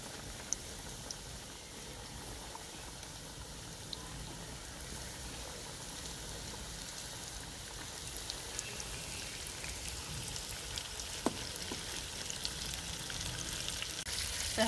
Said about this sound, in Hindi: अब हम इसको फ्राई के लिए डालते हैं। तेज़ गर्म होना चाहिए ऑयल।